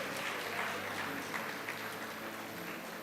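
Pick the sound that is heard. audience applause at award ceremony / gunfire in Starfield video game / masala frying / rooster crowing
audience applause at award ceremony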